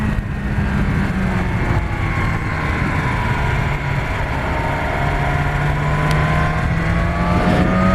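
BMW S1000R motorcycle, a 2017 model, accelerating hard to overtake a Toyota on a winding road, its engine climbing steadily in pitch with loud continuous wind rush and no talk.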